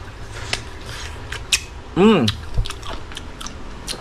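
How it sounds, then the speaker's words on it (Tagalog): Crunchy mango skin being bitten and chewed up close, with irregular crisp crunches and clicks over low background noise and a brief vocal sound in the middle. "Kahit balat kinakain ko na. Parang sarap kasi ng malutong eh."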